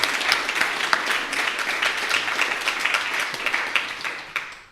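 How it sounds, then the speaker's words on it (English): A live audience gives a round of applause, many hands clapping in a bright, continuous burst that rises and falls slightly before fading out at the end. "I think there's a round of applause in there"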